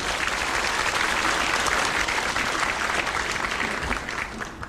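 A hall full of people applauds the outgoing Taoyuan mayor, Cheng Wen-tsan, for his eight years in office. The thick, continuous clapping holds steady, then thins and fades in the last second.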